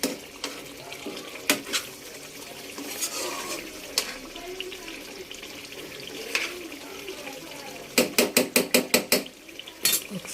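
A spoon stirs and scrapes fish masala curry in a metal pan, with intermittent clinks and scraping strokes and a quick run of rhythmic clanks near the end; no talk.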